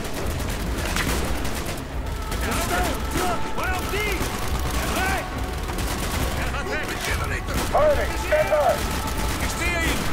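Rapid bursts of gunfire from the Call of Duty: Black Ops video game, continuous chattering shots over dense battle noise, with soldiers shouting throughout.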